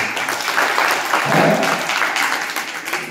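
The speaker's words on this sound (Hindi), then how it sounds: "ताली दो बच्चों के लिए" An audience at a religious discourse claps for the children, a close, full round of many hands that swells in the middle and then settles into steady clapping.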